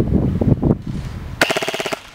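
An Elite Force PDW airsoft gun fires a rapid string of about ten snappy shots near the end, preceded by softer clicks and handling noises.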